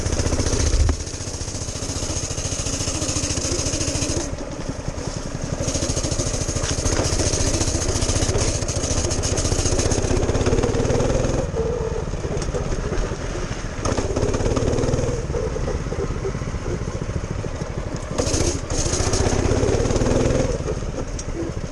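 A turbo go-kart engine runs steadily during a ride, a loud, continuous rough buzzing drone with a rattling texture that barely changes in level over the whole stretch, close up.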